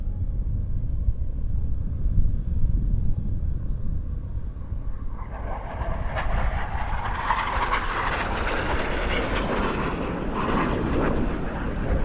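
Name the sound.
Leonardo M-346 military jet trainer performing knife edge pass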